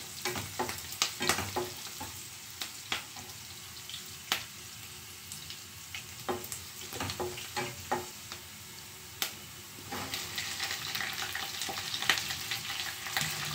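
Vegetables frying in a pan at home, a soft continuous sizzle broken by frequent scraping and stirring clatters from a spatula, moderately close with no talking.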